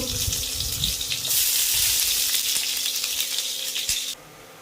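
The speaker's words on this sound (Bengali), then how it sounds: "আগে পেঁয়াজগুলো ভেজে নেব।" Loud, bright sizzle of onions frying in hot oil that swells after a moment, with low stirring thumps underneath, then cuts off sharply near the end.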